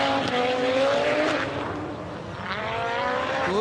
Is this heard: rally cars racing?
yes